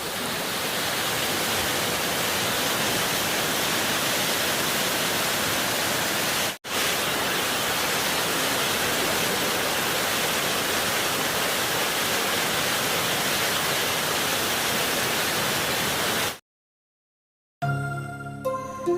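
A mountain waterfall in North Sikkim on the road to Lachung roars in a loud, steady rush of white water, broken by one short dip and then silence before a snatch of music.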